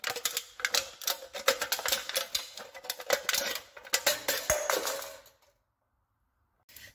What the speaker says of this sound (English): So you can just easily use scissors. The material here is very, very thin. So just use scissors to cut it.